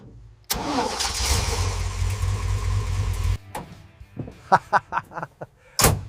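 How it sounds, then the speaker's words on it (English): A Ford F-100 flathead V8 cranks and fires, roaring loudly for about three seconds before cutting out, followed by a series of sharp clanks and knocks and a final loud bang, with no one talking. "Flathead V8, let's see if she still breathes."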